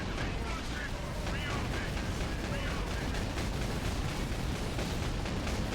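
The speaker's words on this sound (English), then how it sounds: "the autocannon, man, this thing is deadly" An autocannon firing in the video game Warhammer 40,000 Space Marine: a dense, continuous barrage of heavy booming shots and explosions, loud and unbroken throughout, with no pause between bursts.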